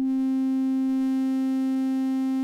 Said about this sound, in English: we also hear a sine wave. But in between, there is some distortion of the waveform happening.